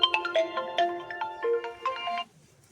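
A mobile phone plays a melodic ringtone for an incoming call, a bright sequence of electronic tones that rises and falls before stopping abruptly, fairly faint and alone.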